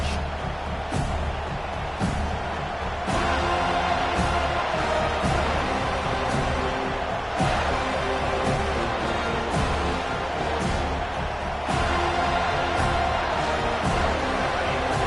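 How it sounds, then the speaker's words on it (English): A packed college football stadium crowd in a football video game roars continuously and loudly, with repeated sharp impacts punctuating the dense, unbroken wall of noise and no talk over it. "This crowd bringing an ear-splitting welcome to their visitors."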